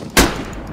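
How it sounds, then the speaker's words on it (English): A single sharp gunshot bursts out loud and close in a shooter video game, then fades into a low, steady background hum with no talking. "Stop shooting!"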